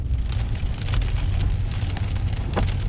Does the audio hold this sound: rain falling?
yes